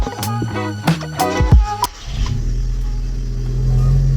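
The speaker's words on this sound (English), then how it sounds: "Cold start." A car with a DSG gearbox starts cold right after its mechatronic input-shaft speed and temperature sensor was replaced: a brief cranking churn, then the engine catches and settles into a steady, loud close idle.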